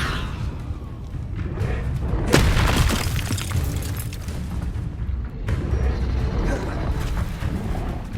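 Confringo fire spell blasts in the Hogwarts Legacy video game, heavy booming impacts with crackling debris over a dense, rumbling battle bed, while a voice shouts spell names.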